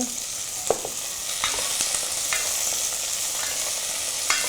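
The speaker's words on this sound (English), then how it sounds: "So yeah, in goes the Petai bean." Petai beans with onion and chili fry steadily in a hot pan over a flame, giving a continuous sizzle with a few light clinks of stirring.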